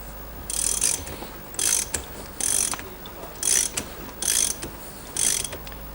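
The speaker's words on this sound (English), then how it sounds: "we can then switch to a ratchet, and it also helps to turn both tools together" A ratchet cranks the bolt of a bearing puller on a Rotax engine, six evenly spaced bursts of rapid clicking, close and crisp, each about half a second long with short pauses between.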